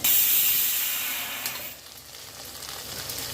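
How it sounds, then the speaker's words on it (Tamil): Small onions sautéing in a hot pan for a Tamil eggplant and onion side dish, a steady close sizzle and hiss with light stirring scrapes, no voices. "வெங்காயம் வதங்கட்டும் சாம்பார் வெங்காயம் லேசாக வதங்கினா போடுவோம்"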